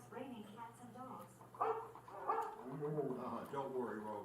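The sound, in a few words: dog Rover barking in Disney's Carousel of Progress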